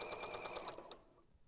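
A sewing machine stitches quilt fabric in a quick, even burst of needle strokes lasting under a second, then cuts off into quiet; close and fairly faint, with no talking.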